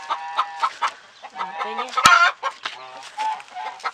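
Hens clucking in a shared nest box on a village farm, a few short calls and soft clucks close by, with someone talking to them over the sounds.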